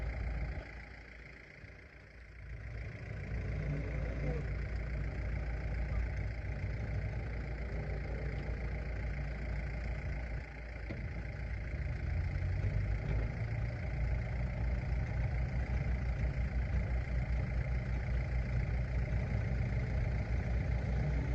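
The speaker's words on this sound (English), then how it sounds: "So you'll see Dad's coming back down now on the John Deere." A John Deere 4520 tractor engine running steadily during Jersey Royal potato planting, a continuous low rumbling drone at moderate distance that swells slightly partway through.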